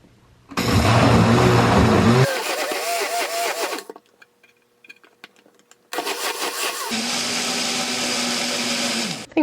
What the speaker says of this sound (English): I poured it into the blender and now we're just gonna mix it up